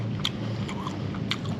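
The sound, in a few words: crunching on crispy shrimp street food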